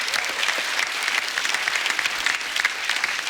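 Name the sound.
studio audience applause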